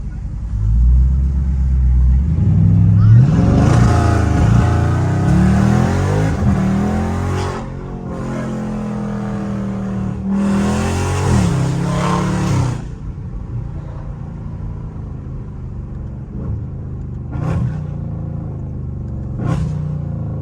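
A Dodge Scat Pack accelerating hard in traffic, a deep engine rumble climbing through a loud revving pull with rising tone, then settling to a lower cruise with a voice talking over it.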